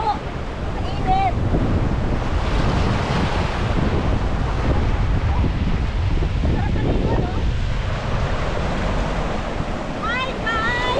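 Waves and wind at Digisit Beach in Baler, a steady loud roar of surf under strong wind buffeting the microphone, continuous throughout, with brief high voices or calls faintly audible at moments.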